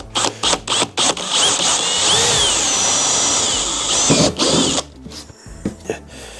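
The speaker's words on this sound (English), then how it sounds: "So let's get that drilled really quickly." Power drill boring mounting holes for Motea pannier brackets on a Harley-Davidson Dyna, starting with short stuttering bursts, then a sustained whining drill run with rising pitch, then more brief close-up bursts.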